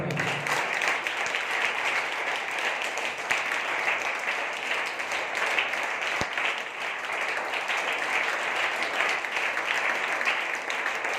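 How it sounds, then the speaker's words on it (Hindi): A church congregation claps loudly and continuously during a sermon, a dense, steady wall of applause from many hands that holds at full strength throughout with no talking over it. "एक बार फिर से अपने हाथों को उठाइए और एक बार फिर से जोर से ताली बजाइए।"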